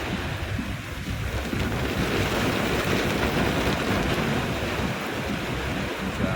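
A car pushes through deep floodwater on a road during heavy rain, giving a continuous loud rushing, splashing wash with a low rumble throughout, and no voices.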